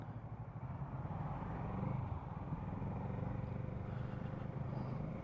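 A Kawasaki Z650 motorcycle rides through traffic, its engine a steady, fairly faint low drone that swells slightly midway and holds on without breaks.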